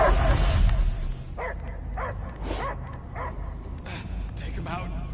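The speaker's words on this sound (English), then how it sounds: "Wait! I hear only barking." A dog barks and whimpers in the video game Guardians of the Galaxy, a few short yips spaced out over a low ambient rumble, with a voice talking at the start.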